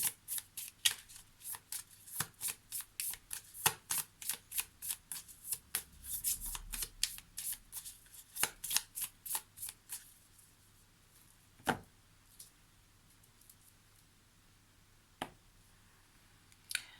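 Lenormand oracle cards shuffled by hand, a rapid run of crisp riffling slaps for about ten seconds, then a few isolated card taps in a quiet room.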